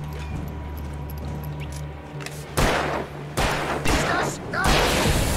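Gunfire in the horror action game Alan Wake Remastered: several loud, sharp shots in separate bursts, each trailing off, after a quieter stretch with background sounds and some talk.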